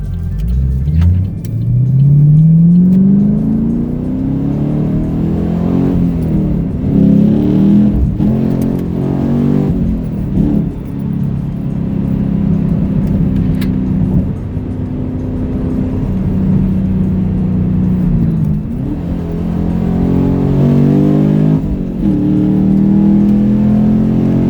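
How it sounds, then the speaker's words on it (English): Fifth-generation Camaro V8 cruising on a highway, a steady loud engine drone with rising and falling pitch as it accelerates and shifts, continuous throughout with no talking. "So let's get on the highway here and warm up the engine."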